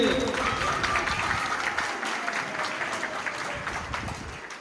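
Dense, sustained applause from an audience at a school annual function, steady and loud throughout, with a few voices mixed into the crowd noise.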